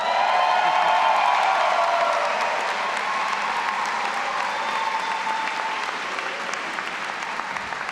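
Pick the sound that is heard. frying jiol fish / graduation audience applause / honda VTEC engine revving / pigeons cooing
graduation audience applause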